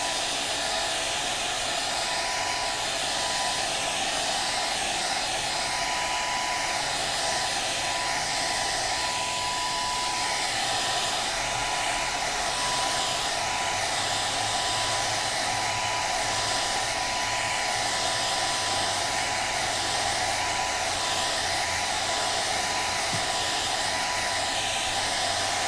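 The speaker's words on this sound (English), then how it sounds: "Here's your hair dryer." A hair dryer blows steadily and loudly on freshly airbrushed paint, running without pause as one continuous whir throughout.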